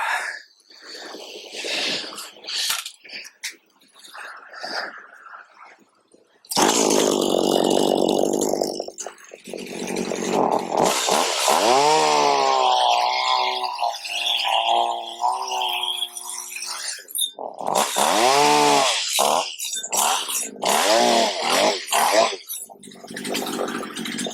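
A Stihl HL75 flex head hedge trimmer bought at a yard sale runs loud and close, its small two-stroke engine revving up and down with rising and falling pitch after a short stretch of quieter handling noise.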